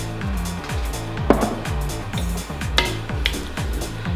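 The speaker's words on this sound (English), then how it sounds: "I'm gonna give this a little stir." A spoon stirs Korean braised beef short ribs (galbi jjim) in a pot, with scraping and light clinks and a couple of sharper knocks against the pot, all under steady background music.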